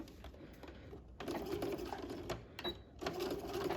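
Sewing machine running a garment seam at the waistline, a close, steady whirring hum of stitching that stops and restarts in several short runs, with brief pauses between bursts.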